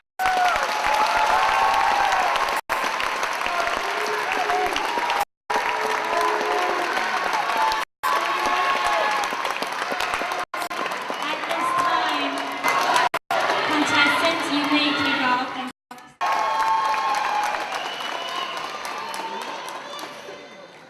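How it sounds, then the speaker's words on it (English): A pageant audience at Miss Asian Pacific breaks into sustained applause with cheering and shouts, loud and dense, interrupted by several brief cuts, with voices mixed into the crowd noise. "Please give them a round of applause."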